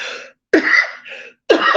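Someone coughs and clears their throat in three harsh, close bursts separated by short silences.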